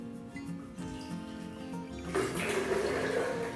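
Water poured into a pot while making spinach sambar, a steady splashing pour that starts partway through and runs to the end, with a low kitchen background before it.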